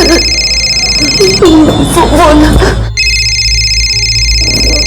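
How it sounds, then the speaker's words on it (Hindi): A phone rings with a steady electronic tone, broken off briefly while voices talk over it, then resuming. "प्रेरणा का फोन"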